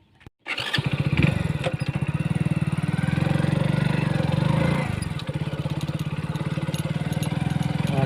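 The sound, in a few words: Hero Splendor Plus motorcycle engine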